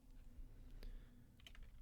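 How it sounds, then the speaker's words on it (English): Quick, light keystrokes on a computer keyboard, a few soft clicks close by over a low steady hum from the room. "I'm going to hit Control F and then start typing in optimization."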